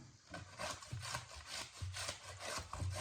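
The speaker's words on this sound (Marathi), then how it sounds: "दुसराही आता काही क्षणातच किसून संपेल किसून होईल" Hand grating for a homemade coconut and mango murabba, with steady rhythmic scraping strokes against a grater, fairly close and continuous, with no talking.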